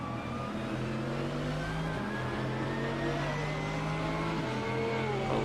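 Several Lamborghini race cars roar around the Hungaroring circuit in a racing video game, with engines droning steadily and shifting pitch as they accelerate and change gear, loud and continuous throughout.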